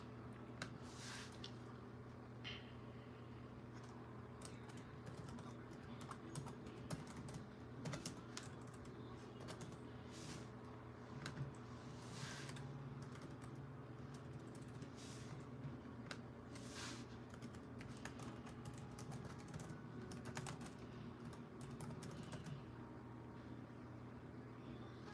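Soft, quick keystrokes tap away on a keyboard in irregular bursts, faint over a steady low hum.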